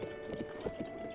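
Horse hooves clip-clopping in The Legend of Zelda: Breath of the Wild, a quick, even run of soft hoof thuds with no voices, quiet and brief.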